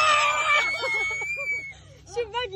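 On a haunted walk-through trail, a person lets out a loud, high shriek, then excited voices chatter and yelp nearby.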